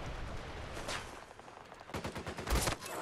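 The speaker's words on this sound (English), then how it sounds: "shotgun him into the air" Shotgun blasts in a shooter video game, a quick run of loud sharp shots clustered near the end with one earlier crack, over background game noise, no talk.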